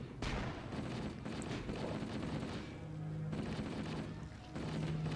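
Gunfire in the Halo video game on Xbox 360, dense bursts of rapid shots crackling almost continuously across the clip with brief lulls, heavy and close-sounding.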